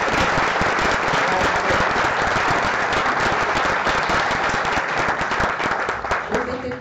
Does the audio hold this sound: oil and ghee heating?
no